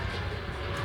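Planes taking off with a broad, steady engine roar, dense and continuous, heard briefly as a constant wash of noise.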